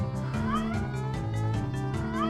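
Cats in the Goo Gladiators video game meow and caterwaul in a loud, repeated, rhythmic stream of yowls over steady game music.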